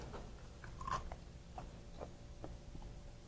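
Crisp crunching bites into a fried Filipino shrimp fritter (okoy), a few sharp crackles spread over a few seconds, close and fairly quiet, with no talking.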